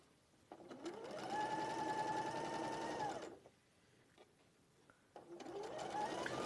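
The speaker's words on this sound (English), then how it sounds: "While Catherine's just sewing that seam" A sewing machine stitches a seam in a fast, even whir. It runs for about three seconds, stops, gives a few faint clicks, then starts stitching again, close and clear with no talk.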